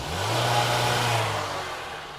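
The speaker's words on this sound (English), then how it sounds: "when I rev up the car" A car engine revs up, fully warmed, and climbs to a rev limiter set around 3,500 RPM. It rises in one quick mid-pitched surge, holds briefly, then falls back, close and fairly loud with no talking.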